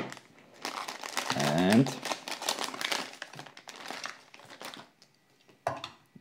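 Hot Wheels Mystery Models Set 3 packaging from 2023 being cut open, giving close crinkling and crunching of plastic blister and card, with a voice talking over the handling.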